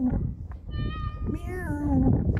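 A voice imitates a cat's meow in a drawn-out, rising and falling tone, amid outdoor background noise by a harbour in Poole, Dorset.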